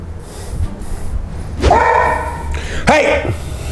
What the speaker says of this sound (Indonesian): Terus gonggong lagi dia